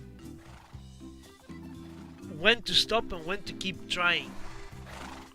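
Donkey in Minecraft making braying, whinny-like calls in several bursts, moderately loud over a music backdrop, with someone talking alongside.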